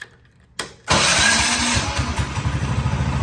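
A Carter Talon go-kart engine fires up after a short crank, then settles into a loud, steady, throbbing idle close by.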